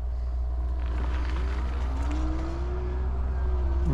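Cars pass on a quiet rural county road near Caddo Mills, Texas. A steady low road rumble builds as a vehicle approaches, and its engine tone rises and sweeps past nearby, with no talking.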